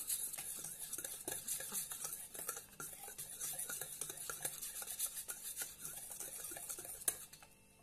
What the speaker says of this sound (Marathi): आता आपण हे सर्व एकत्र करून घेऊया, छानपैकी फेटून घेऊया।